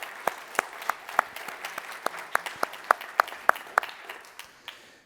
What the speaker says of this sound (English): So maybe we give them another round of applause for all the presenters this morning.